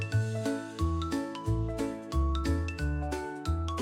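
A clock chime plays a bright, melodic sequence of struck bell tones marking eight o'clock, each note ringing briefly over a low sustained tone, clear and close with no talking.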